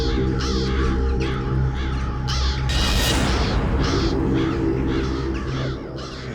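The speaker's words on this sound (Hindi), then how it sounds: "इतने सारे कौवे इस वक्त?" A large flock of crows caws loudly and continuously, with many overlapping harsh calls close by in an eerie night scene.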